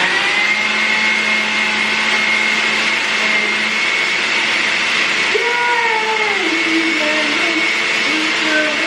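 Kitchen blender whirring steadily and loudly throughout while Nigerian jollof rice ingredients are blended, with the motor pitch shifting partway through as the load changes and a voice speaking over it.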